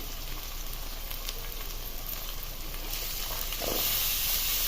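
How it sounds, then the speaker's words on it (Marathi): Phodni (a tempering of spices in oil) sizzles steadily in a pan while being fried for a pumpkin vegetable dish, a soft continuous hiss that grows slightly louder near the end, with no talking. "एक भर ही फोडणी आहे ती चांगली परतून घ्यायची"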